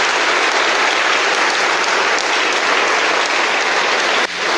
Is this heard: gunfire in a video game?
no